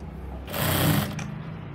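A sewing machine stitches the crotch gusset of a readymade palazzo, giving one short, close burst of stitching that swells and then trails off.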